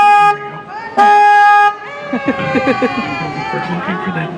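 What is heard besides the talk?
tour boat horn honking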